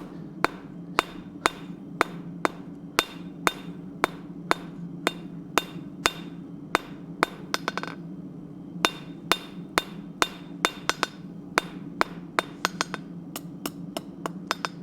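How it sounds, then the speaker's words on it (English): Hammer blows forging metal on an anvil at a blacksmith's forge, a long run of sharp ringing strikes in a steady rhythm, some in quick doubles, over a constant low hum. "I'm going to forge that out a little bit."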